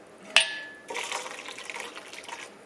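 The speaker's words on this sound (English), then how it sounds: "I'm just going to use the hot water." Hot water pours into a bowl for a cranberry salad in a home kitchen, a steady splashing fill that follows a brief clink and runs for about two seconds at close range, with no talking.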